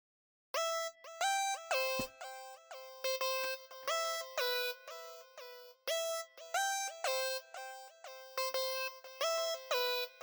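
Layered FL Studio stock plugin synth, a Computer Tape preset in Flex, plays a bright, buzzy repeating melodic pattern for a hypertrap beat, in short rhythmic stabs with brief gaps, clear and alone.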